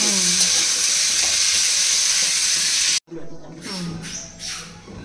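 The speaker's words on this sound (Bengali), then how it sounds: "এটাকে একটু ভাজা ভাজা করি" Beans and green chilli fry in a pan with a loud, steady sizzling hiss that cuts off abruptly partway through and resumes slightly softer, while a voice talks faintly underneath.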